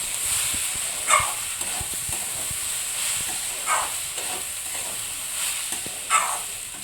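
Ginger, green chilli and garlic fry in hot oil in a pan, giving a steady close hiss broken every second or two by short scraping bursts of stirring. No one speaks.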